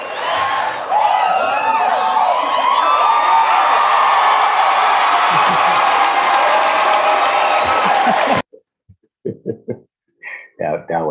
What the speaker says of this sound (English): I see why the crowd is going crazy like that.